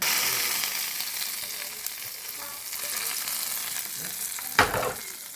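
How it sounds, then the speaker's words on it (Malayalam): Mustard seeds, green chilli and curry leaves fry in oil on a tawa with a bright, crackling sizzle and a sharp spattering burst near the end. "തവ വെച്ച് ആ തവയ്ക്കകത്ത് തന്നെ എണ്ണ ഒഴിച്ചുകൊണ്ട് കടുക് ഇടുവാണ്. അതുപോലെ പച്ചമുളകും കറിവേപ്പില."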